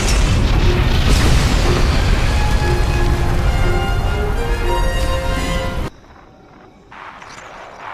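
A supply cache blown up in the video game SWTOR (Star Wars: The Old Republic): a loud, close, rumbling boom that rolls on for several seconds, then cuts to quieter background with a faint sound shortly after.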